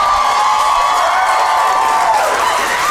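Comedy club audience at a stand-up show cheers, whoops and shouts in a sustained, dense wash of crowd noise lasting a few seconds, with high excited voices rising over the din.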